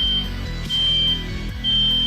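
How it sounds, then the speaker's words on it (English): A household smoke alarm beeps in a hallway, a loud, steady high-pitched tone that cuts off and resumes in long pulses over a low hum. "Is there any reason for a smoke alarm?"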